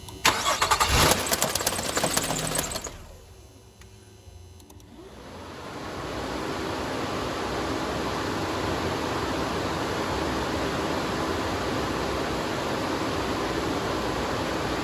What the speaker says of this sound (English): it sounded like the belt was flapping around. The engine started and ran for just a couple seconds.